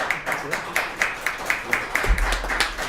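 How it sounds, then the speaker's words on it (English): An audience at a volunteer festival panel session claps together in an even, steady rhythm, about a dozen crisp beats at a brisk pace. "I think we should all do the clap"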